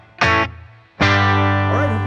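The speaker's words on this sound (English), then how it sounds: "you can really hear that Nashville tuning in there at the end, layered with the other guitars" Electric guitar in Nashville tuning, heavily effected with distortion and chorus: a short bright chord stab, a pause, then a loud sustained ringing chord with shimmering upper notes, close and alone.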